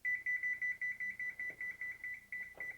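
A kitchen oven timer goes off during cooking, sounding about a dozen evenly spaced, fairly loud electronic beeps in a steady pulsing rhythm with nothing else over it.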